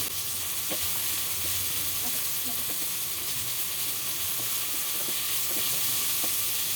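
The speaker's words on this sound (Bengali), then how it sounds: "এখন আমি পেঁয়াজটা নাড়াছাড়া দিয়ে নিচ্ছি" Chopped onion and garlic fry in hot soybean oil in a pan, a loud, steady sizzle running throughout, with occasional soft scrapes and knocks of a spoon stirring them close by.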